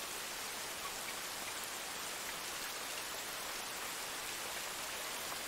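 Steady rain falls, a dense, even hiss of drops across the whole stretch with no let-up or voices.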